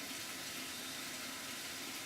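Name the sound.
spraying rinse water into tumbler drum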